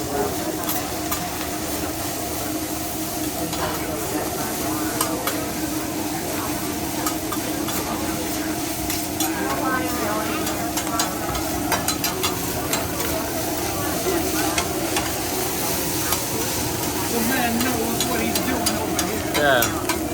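Food sizzles and fries on a grill at a Japanese restaurant where meals are cooked at the table, a loud, steady hiss with clatters of stirring and scraping, while diners chat nearby.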